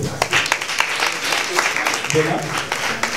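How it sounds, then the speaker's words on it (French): An audience applauding at a slam poetry final, a dense patter of clapping hands with some voices mixed in. "On applaudit, s'il vous plaît."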